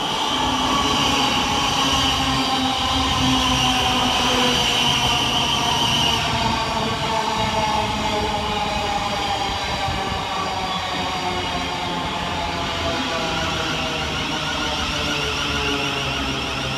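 Govia Thameslink Class 700 electric multiple unit pulling into Hassocks station, a steady loud rumble of wheels and motors with rising whine and rail noise throughout, no voices.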